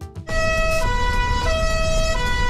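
A Brazilian emergency vehicle siren sounds in the two-tone 'fadó' pattern, loud and close, alternating between a high and a low pitch after a brief burst of noise at the start.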